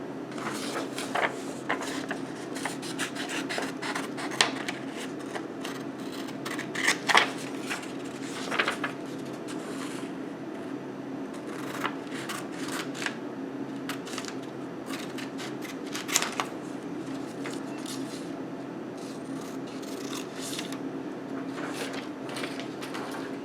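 Scissors snipping through paper to cut out a hand-drawn right triangle, a steady run of small crisp cuts and rustles close by over a low constant hum, with no talking.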